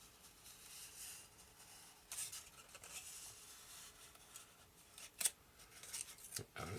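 Sharp X-Acto knife grooving balsa wood for an RC plane build, quiet scraping and slicing strokes with a few sharper scratches, faint and close with long soft gaps.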